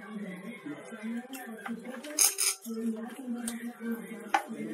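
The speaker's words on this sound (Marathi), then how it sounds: "मिक्सर मध्ये मी सगळे पदार्थ घालते" Mint chutney ingredients are tipped into a small mixer jar, producing light clinks and knocks of utensils against the container while someone talks over them.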